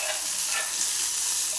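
Onion and tomato frying in hot oil give a dense, steady close-up sizzle with faint stirring throughout, with no voice.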